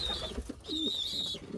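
Pigeons coo softly at close range in a brief, low burble, with a thin high tone running alongside and no talking.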